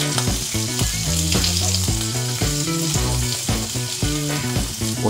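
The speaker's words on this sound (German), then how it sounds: "Pfanne einlegen. Von beiden Seiten kurz rösten." Ham slices for carbonara frying in a pan, a loud, dense, continuous close sizzle that holds steady throughout, with no speech.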